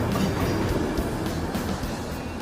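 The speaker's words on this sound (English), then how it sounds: "The train's only 90 seconds away." An East Coast passenger train draws near, a steady close rumble of wheels and engine noise that holds loud and even throughout, with no voices.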